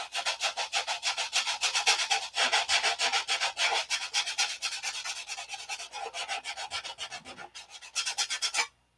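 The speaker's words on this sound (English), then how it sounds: "it'll get detail sanded one more time too before the covering goes on" Detail sanding on a wooden cap strip before the covering goes on, a steady rhythmic rasping of fast back-and-forth strokes, close and fairly loud, continuous for most of the stretch and then stopping abruptly near the end.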